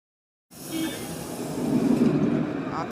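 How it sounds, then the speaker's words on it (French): A modernised TCL tram in Lyon pulls away, its low rumble and wheel noise building steadily over about two and a half seconds after a brief silence, close and fairly loud. "Un tram qui a été modernisé, le voilà qui est parti."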